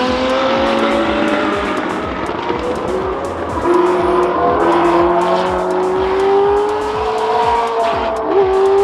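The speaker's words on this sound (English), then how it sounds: "That's that 64 Elba Porsche Mark 7S. Stephen Tyne in car 28, a 67 Porsche 910-7." Vintage Porsche race cars, including a 1964 Elva Porsche Mk 7S and a 1967 Porsche 910, at the Rennsport Reunion race: loud, continuous engine roar with rising and falling pitch as the cars sweep past at speed.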